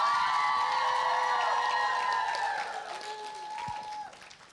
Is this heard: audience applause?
yes